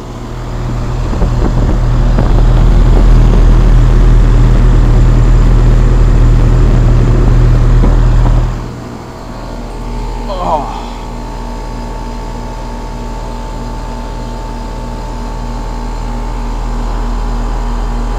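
A 2001 Trane XE1000 Weathertron heat pump runs outdoors in cold weather with a loud, steady low hum and fan whir, then abruptly winds down to a quieter drone; a brief squeal follows, and the hum slowly builds again.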